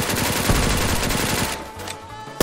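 Rapid automatic gunfire in a battle royale video game, a dense stream of loud shots that stops partway through, followed by quieter game sounds and a final loud burst.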